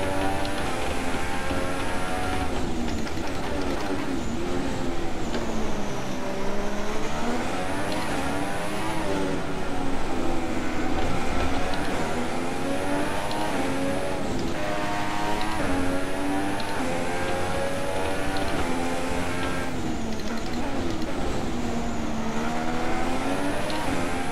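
A Formula 1 car engine in the F1 2016 racing game at the Australian circuit screams continuously at high revs, its pitch rising and dropping through repeated gear changes and corners, loud and constant throughout.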